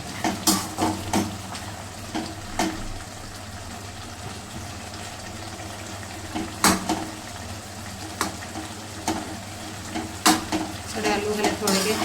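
Aloo baingan sabzi stirred in a pan on a gas stove: a spoon scrapes and clinks against the metal in irregular bursts over a steady low sizzle, close by.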